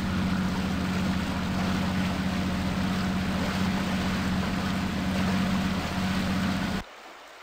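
A steady low boat motor drone with a wash of water and wind runs continuously, then cuts out abruptly near the end, leaving quiet.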